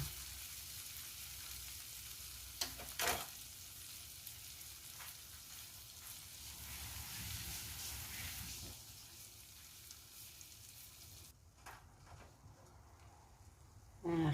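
An egg fries in a pan on top of grilled-chicken pad thai: a faint, even sizzle holds throughout, broken by a few soft clicks and a brief louder crackle near the end, with no talking.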